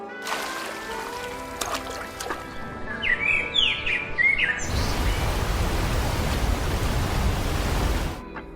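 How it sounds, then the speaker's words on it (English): Scattered forest bird chirps and calls ring out over a steady rushing hiss, a few tweets at a time, then broadband noise swells and cuts off. "Bird calls appear one by one, not loud, measured."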